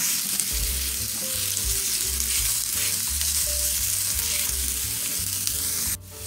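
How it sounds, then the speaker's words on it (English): Onion sizzles steadily in a hot pan, a loud, continuous frying hiss with faint stirring scrapes running beneath it. The sound cuts off abruptly near the end. "Now we're going to add in our onion. We're going to let that saute for 2 minutes."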